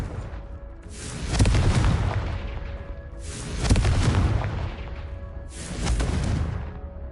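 Three deep, rumbling Confringo spell explosions in Hogwarts Legacy, each a heavy booming blast swelling and fading at steady intervals, loud and close with no talk.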